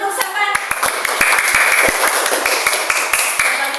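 A class of pupils claps together during a Pancasila lesson, sharp rhythmic hand claps in a fairly steady pattern, close and loud, with some voices mixed in.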